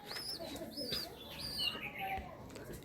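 Pigeons of fancy breeds such as Oman and Saki Teddy types at a loft sale in Kolkata, cooing and chirping repeatedly in a busy chorus, with some background voices.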